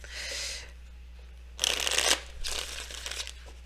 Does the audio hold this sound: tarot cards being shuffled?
yes